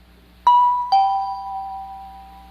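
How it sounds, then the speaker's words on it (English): A doorbell rings out a clear two-tone ding-dong, the second chime lower and sustained as it fades, loud and near with no voices. "2 donuts ring the bell"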